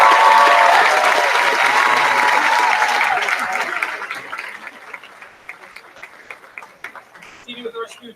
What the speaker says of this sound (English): One more special round of applause for Miss Lisa,